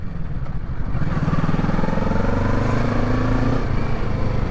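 A motorcycle climbing a steep hill road between Siliguri and Kalimpong, its engine close and loud, labouring under steady throttle with a slight rise in pitch, with no voices.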